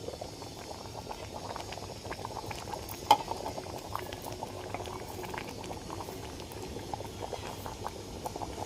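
Odisha temple-style dalma, a lentil stew, boils steadily in a clay pot, giving a close, continuous bubbling and soft popping with no voices.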